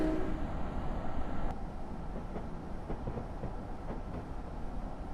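A train rolls along the Northeast Corridor rail line between New York and Stamford, giving a steady low rumble with faint rhythmic clacks of wheels over track joints, continuous and moderately loud.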